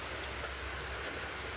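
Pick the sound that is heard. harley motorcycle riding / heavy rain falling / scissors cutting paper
heavy rain falling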